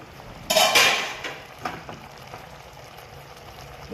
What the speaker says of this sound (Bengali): 2 মিনিট পর ঢাকনাটা খুললাম।